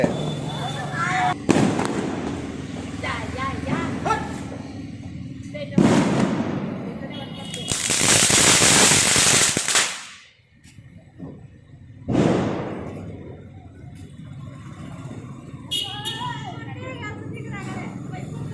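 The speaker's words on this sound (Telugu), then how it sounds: "వంకాయ బాంబు కాలుస్తున్నాడు ఫ్రెండ్స్" Eggplant-shaped firecrackers burst during Diwali celebrations at home, with sharp pops and one long, loud crackling blast, while people talk and shout nearby.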